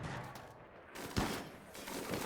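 Uranium slug turrets fire in a Rimworld colony defense, a quiet distant crackle of shots with one sharper crack in the middle, faint and muffled under a steady battle din.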